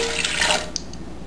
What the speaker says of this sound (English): 1/3 of a cup of water,